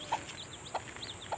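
A hen softly clucking near her four chicks in a village yard, three short soft calls spaced evenly apart, with faint high chick peeps in between over a steady background hiss.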